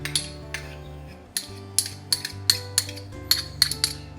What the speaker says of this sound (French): Alors je vais me prendre une petite cuillère ici.